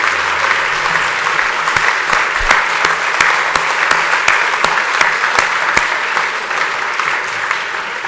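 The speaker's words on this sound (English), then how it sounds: "I would ask you all to give them a round of applause." An audience at a governance competition dinner applauds serving staff in a loud, sustained round of clapping from a large room, with sharp individual claps standing out above the steady wash.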